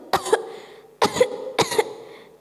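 Three harsh coughs from one person, close by, the first alone and the last two coming quicker together, with quiet pauses between.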